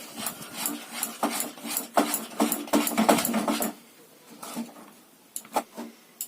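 Rice flour dough for winter pitha being stirred and kneaded by hand in a pot, giving a run of close, rhythmic rubbing and scraping strokes that thin out into a few sparse touches toward the end.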